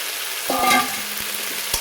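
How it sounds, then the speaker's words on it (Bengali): Tender drumstick stalks and tomato frying in a pan, a constant sizzle with a few scrapes of stirring and a brief tonal squeak near the middle, close and fairly quiet. "এখন আমি দিয়ে দেবো সে কেটে রাখা ডাঁটাগুলো।"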